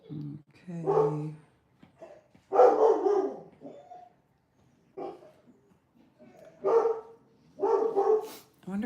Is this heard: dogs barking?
yes